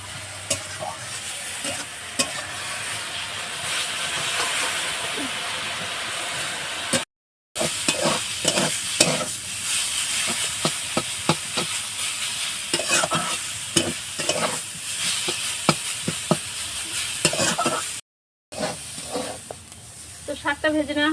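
Leafy greens with salt and turmeric fry in a karai, a constant sizzling hiss broken by repeated scraping stirs and clacks of a spatula, with two brief silent gaps.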